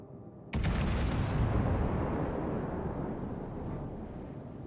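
Heavy broadside salvo from a battleship in World of Warships, the USS Georgia: a sudden loud booming blast that swells into a long rolling rumble, fading slowly over several seconds with no talk.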